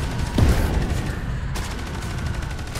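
Turret fire in the Space Hulk: Deathwing game, a rapid stream of loud automatic shots with a heavy burst near the start, continuing as a dense rattling barrage.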